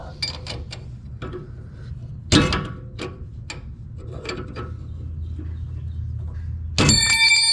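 A socket wrench skips over the nut of a sway bar link on a 1999 Ford F-150, giving sharp ratcheting clicks in short bursts, with a final louder metallic clatter.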